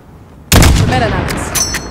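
A single loud, sharp sniper rifle shot in Call of Duty Modern Warfare 2019 cracks at close range, then leaves a long ringing tail of echo and ambience.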